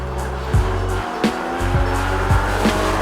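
A Porsche 981 GT4's engine drones steadily and loudly from inside the car, broken by several quick blips and gear-shift dips, with a faint tire squeal now and then.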